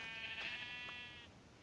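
A single faint, wavering sheep bleat from the video game Minecraft, thin and nasal, sitting quietly over low background hiss and fading out after about a second.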